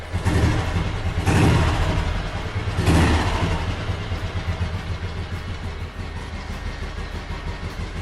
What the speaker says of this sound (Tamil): ஸ்டார்ட் பண்ணி காமிக்கிறேன் வெஹிக்கிள் எப்படி இருக்குன்னு பாருங்கள்.